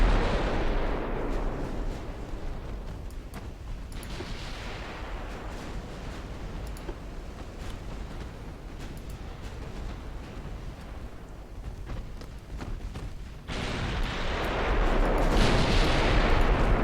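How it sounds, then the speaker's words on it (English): Broadside of 14-inch naval guns firing from British Vanguard battleships in Ultimate Admiral Dreadnoughts, repeated deep booming blasts with rolling low rumble, loud and near, swelling again near the end. "That's a powerful sound from those 14-inch guns on my vanguards."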